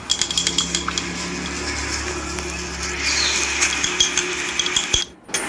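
Spoon scraping and clinking against a container as chocolate-flavoured mass gainer powder is stirred, a steady run of close metallic ticks and rattles with a brief hush near the end.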